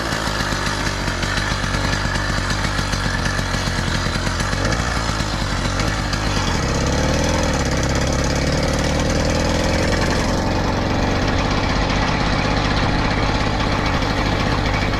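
A small engine on a Cranbrook, still being broken in, runs loud and close with a rapid, rough chugging that settles into a steadier idle partway through, with no talking.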